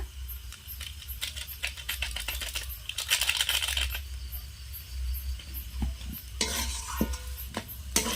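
A potato filling being mixed with a packet of Maggi masala in a pan, with close, irregular scraping and stirring strokes over a soft sizzle and occasional light clinks, no voices.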